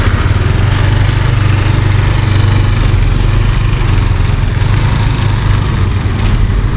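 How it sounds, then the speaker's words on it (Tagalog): Motorcycle engine idling steadily close by as the bike is being parked at night after rain, a continuous low rumble with no talking. "Ayan, ipapark niya yung motor niya."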